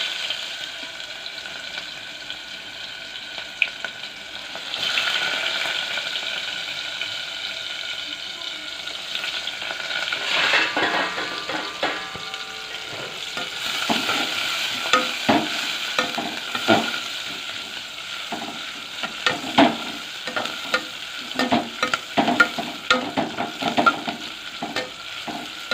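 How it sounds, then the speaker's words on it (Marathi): Vertically sliced onion fries in a pan with a steady sizzle, broken by repeated scraping and stirring clatter from a utensil, and louder clicks toward the end; no voice is heard. "त्याच्यात टाकला उभा चिरलेला कांदा"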